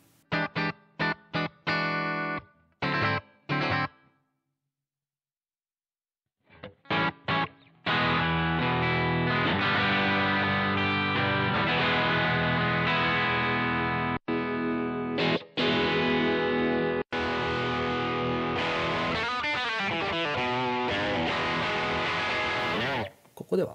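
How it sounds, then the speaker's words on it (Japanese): Distorted electric guitar played through a BOSS GT-1 multi-effects unit: a few short choppy chords, a brief pause, then sustained overdriven chords and riffs ringing loud and continuous, with no talking over them. "お好みの歪みの音を選んでいきましょう。"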